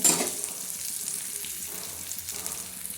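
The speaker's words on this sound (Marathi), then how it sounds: "त्याच्यानंतर टाकणार आहे आपण कांदा हा कांदा बी चांगला लालसर होऊन द्यायचा" Chopped onion hits hot oil in a pan with a sharp initial burst, then settles into a soft, steady sizzle that stays fairly quiet, with no talking.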